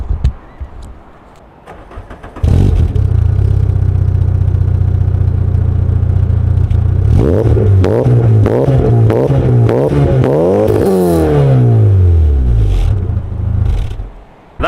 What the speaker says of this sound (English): this exhaust system is so annoying, because it sounds so much better than the twin tips